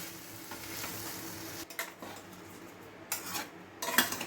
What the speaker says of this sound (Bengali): খুব হালকা হাতে এটাকে একটুখানি মশলার সঙ্গে ভাজাভাজি করে নেব